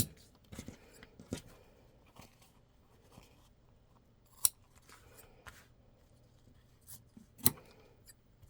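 Scissors trim vinyl around a zippered sewing project, giving sparse sharp snips spaced a second or more apart, close up and quiet against a near-silent background.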